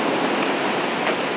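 Swell waves wash against a shore structure in a continuous hissing roar, steady and fairly loud with no voices.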